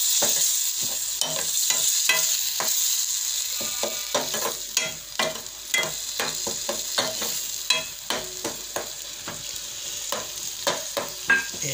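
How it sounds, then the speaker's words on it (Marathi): Onion and tomato sauté in a pan for garadu vegetable, a steady sizzle broken by repeated close scraping stirs of a spoon, irregular in rhythm, with no talking. "थोडंसं मामूली त्यालासुद्धा परतून घ्यायचं आहे।"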